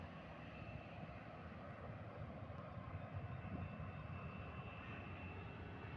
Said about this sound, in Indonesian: Pesawat mau berangkat nih.